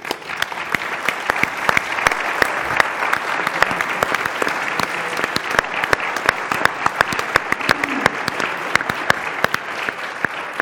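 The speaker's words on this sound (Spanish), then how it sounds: "querría pedir un aplauso también para ellos" Sustained applause from an audience at an international bullfighting congress round table, dense steady clapping filling the room evenly for about ten seconds without voices.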